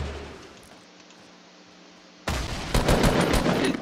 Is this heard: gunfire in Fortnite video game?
yes